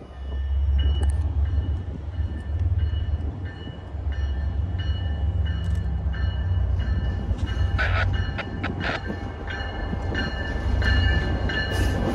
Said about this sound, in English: let's check out that second locomotive on the consist.